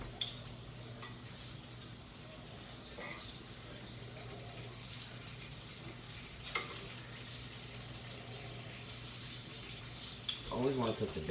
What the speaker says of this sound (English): Always want to cook the bacon first, so you can use the bacon grease.